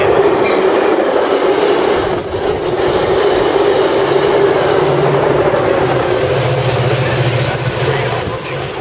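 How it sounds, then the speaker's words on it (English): Metra express commuter train passing through the Naperville, Illinois station without stopping, a loud continuous roar of wheels and rumbling carriages close by, with a faint tone rising near the end. "The next Metra train approaching your station will be a Metra Express train."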